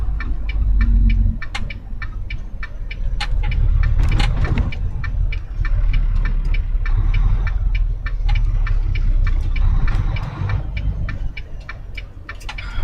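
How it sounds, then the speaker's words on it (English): A truck engine rumbles steadily and loudly from inside the cab while the driver gears down, with a constant low drone and a regular ticking clicking over it. "I should be gearing down here."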